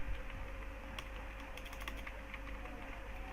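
Quiet, rapid clicking of computer keyboard keys in short irregular bursts, close and soft, with no talking.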